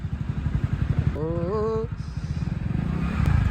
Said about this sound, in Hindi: थोड़ा थोड़ा सा बाइक चलाते हुए